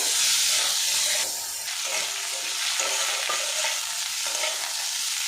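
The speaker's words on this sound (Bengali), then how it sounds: "পেঁয়াজের আলুটা একসঙ্গে ভেজে নেব" Potato and onion fry together in a pan, a steady broad sizzle with scraping stir strokes running throughout, close and moderately loud with no talking.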